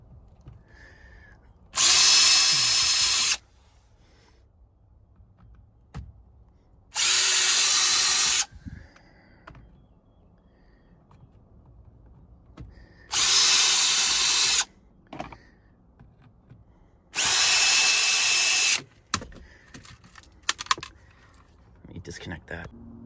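A power drill removes four steering column bolts at a junkyard car in four separate loud whirring bursts of about a second and a half each, with quiet handling noises and light clinks between them.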